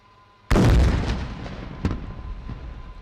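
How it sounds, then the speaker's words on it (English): A kamikaze swarm drone strike hits a mock terror hideout during an Indian army demonstration: one sudden heavy blast with a rumbling decay and a lesser crack following, heard from a distance over open ground. "Please take your attention to the terror hideout Tango 11 on your right to witness the kamikaze kinetic strike."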